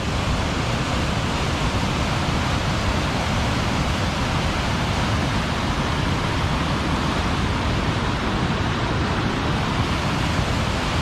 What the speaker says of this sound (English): Oh, look at that waterfall